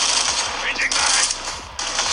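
Video game weapon magazine change during a reload, a string of sharp mechanical clicks and metallic clacks over steady game ambience, close and fairly loud.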